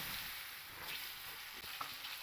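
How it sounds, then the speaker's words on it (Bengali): Potatoes fry in oil left from cooking katla fish, a quiet, even sizzle that runs briefly with no voices. "ওই একই তেলের মধ্যে আমি আলুগুলোকে ভেজে নেব।"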